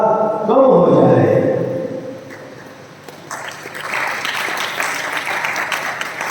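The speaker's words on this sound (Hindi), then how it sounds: "लोगों में ताली हो गई" An audience applauds during a Jain monk's religious discourse, a broad wash of clapping that swells and continues while a voice speaks over it in a large hall.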